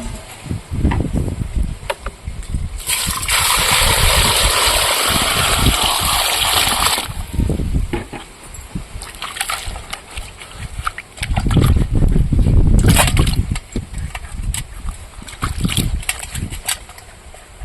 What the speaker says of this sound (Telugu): మనం ఒకసారి నీళ్ళు పోసుకొని కడుక్కుంటే ఉసుక క్లీన్ అయితే నీట్గా అవుతుంది